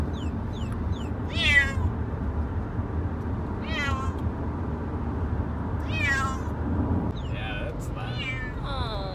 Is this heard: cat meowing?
yes